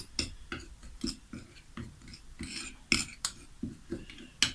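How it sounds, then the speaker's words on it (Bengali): A spoon mixing borax, fenugreek and camphor in a small container gives a series of sharp, irregular metallic clinks and scrapes, close and fairly quiet, with no talking. "এদিকে একসঙ্গে আমি তিনটি উপাদান মিক্সড করলাম"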